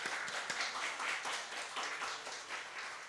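Congregation applauding during a church Sunday service, a quick irregular patter of many hands clapping at moderate distance, steady for the whole stretch with no voices over it.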